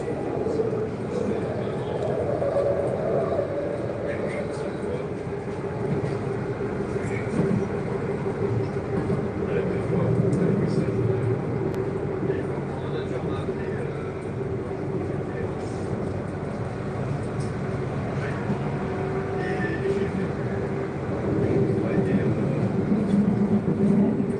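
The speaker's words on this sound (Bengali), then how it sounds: "ট্রামের মধ্যে রয়েছে" Inside a moving tram in Spain, a steady low rumble and rolling hum carry on throughout, with faint rattles and people talking quietly in the background.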